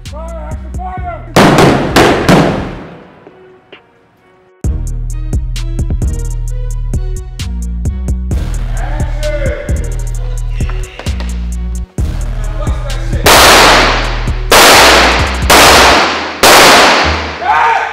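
Gunfire on the set of a rap music video shoot, sharp broadband bursts clustered near the start and again toward the end, loud against a steady heavy-bass beat.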